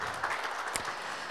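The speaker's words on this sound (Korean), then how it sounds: "큰 박수 부탁드립니다." Audience applause at an award ceremony for teachers, a brief, faint burst of dense clapping with no voices over it.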